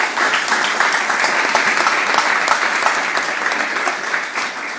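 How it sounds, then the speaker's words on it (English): A crowd at a presidential campaign kickoff event claps steadily, a dense, even round of applause that holds for several seconds before easing slightly at the end. "Let's have another round of applause for him."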